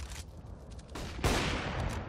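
Bursts of rapid gunfire in the game CS:GO on the Inferno map during a professional match, with shots fired through a wall. Loud, dense volleys come in quick succession, with a sharper heavy burst partway through.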